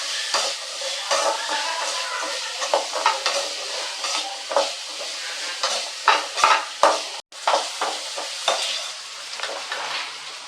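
Shallots sauté in a pan with a gentle sizzle, broken by repeated scraping strokes as they are stirred at an uneven rhythm, close and fairly quiet.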